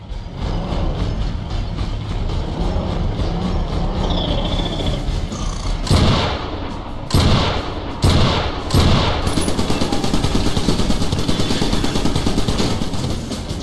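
Shotgun turret emplacement firing in the Iron Brigade video game: four loud, punchy blasts spaced about a second apart, over a constant roar of battlefield noise and machinery.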